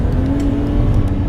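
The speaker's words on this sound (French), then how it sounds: "belle sonorité pour un moteur atmosphérique" Naturally aspirated engine of a Toyota Highlander 4x4 revving, a loud, close, steady hum with a rising tone over a deep low rumble, brief and continuous.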